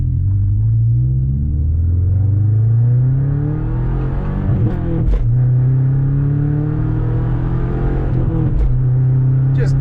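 A Subaru Forester engine revs hard with a loud, rumbling roar as the clutch is dumped, the pitch climbing steadily through two shifts with brief dips between pulls, all close and continuous.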